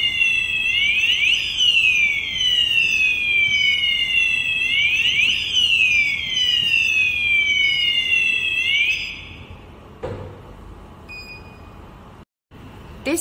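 An FP300 addressable fire control panel sounds its alarm: a loud, repeating electronic sweep tone that cycles roughly every two to three seconds for about nine seconds and then cuts out, leaving quiet room tone with a couple of brief clicks.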